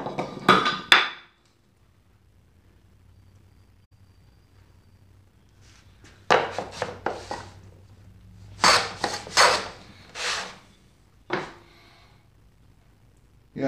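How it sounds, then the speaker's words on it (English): Hand plane on a wooden shooting board taking end grain shavings: several separate bursts of sharp scraping strokes, close and fairly loud, with brief gaps of near-silence between passes. "going to move this over so we can see the lovely joy of using the shooting board"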